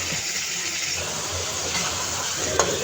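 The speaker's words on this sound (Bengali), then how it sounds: "তেল গরম হলে ছুঁড়ে দিলাম চিংড়ি" Shrimp hit hot oil in a home kitchen pan, giving a steady, close sizzling hiss with faint stirring that runs throughout and a small sharp clink near the end.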